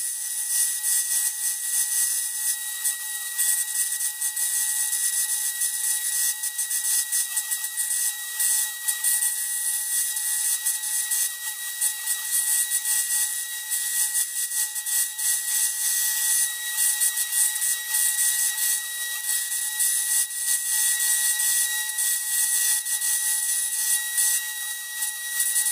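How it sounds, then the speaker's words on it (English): A belt sander grinds steadily against a wood carving, a continuous high-pitched whine and rasp from a machine with a squealing bearing, loud and close throughout with no speech. "that's all the machine sanding I'm going to do"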